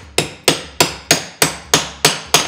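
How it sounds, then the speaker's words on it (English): A hammer drives a nail into a wooden baseboard with eight sharp, evenly spaced strikes, loud and close, each blow ringing briefly before the next. "we would hammer this in so we can get the baseboard"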